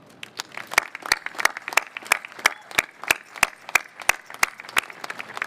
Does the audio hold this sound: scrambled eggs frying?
no